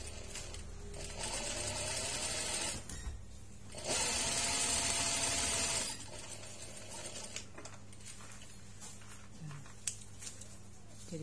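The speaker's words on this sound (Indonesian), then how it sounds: "Kita jahit tali dulu." Sewing machine stitching a fabric strap for a two-litre water bottle bag, running in steady bursts with brief pauses in between, fairly close and without talk.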